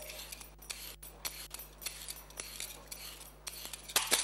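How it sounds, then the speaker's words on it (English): A vegetable peeler scrapes along a carrot in a kitchen, repeated short rasping strokes in an irregular rhythm, close and crisp over a low steady hum. "so with a peeler, just peel it."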